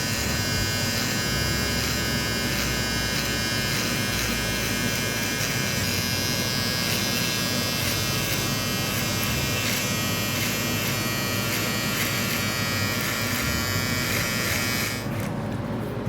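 Electric hair clippers buzz steadily and close up while a skin fade guideline is cleaned up at a barber chair, with a constant whine throughout that cuts off just before the end.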